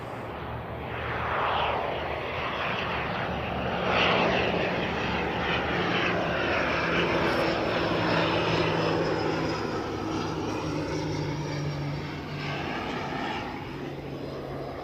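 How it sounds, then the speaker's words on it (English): An Emirates airliner on landing approach into Christchurch Airport on a foggy day, its engines making a loud, sustained roar that swells and shifts in pitch as the aircraft passes, with no talking. "I will actually turn my mic off for the arrival of Emirates, just so that we can listen to those engines keeping it afloat"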